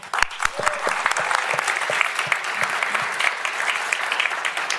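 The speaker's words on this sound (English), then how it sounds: "Let's give them a clap." Dense applause from an audience at a bilingual English-Spanish gathering, many hands clapping steadily and fairly close for about five seconds, with a few louder claps and faint voices mixed in.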